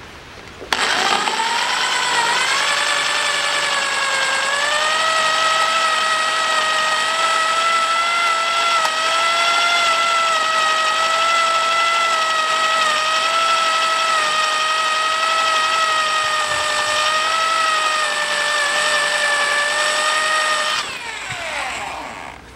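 A drill whines continuously for about twenty seconds, pitch wavering slightly as it bites into broken, rusted stainless-steel bolts on a 1982 Land Rover Series III, close and loud, starting and stopping abruptly.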